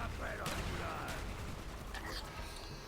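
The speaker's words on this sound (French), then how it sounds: "On tire une petite balle à gauche, une petite balle à droite." Pistol shots from Call of Duty Black Ops zombies mode on the Kino der Toten map ring out as a few sharp cracks amid dense game noise, with a voice talking faintly underneath.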